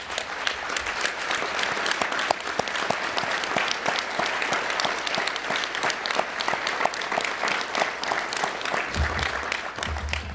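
Sustained applause from a conference audience honoring past MACo presidents, dense and steady across the room for about ten seconds, with a few voices faintly mixed in.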